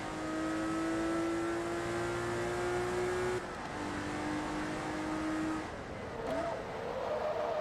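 TVR Tuscan S engine screaming through the gears in Forza Motorsport 2, a high rising wail cut by quick shifts, then a brief tire squeal near the end.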